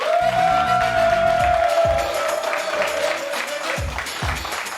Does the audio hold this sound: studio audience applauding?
yes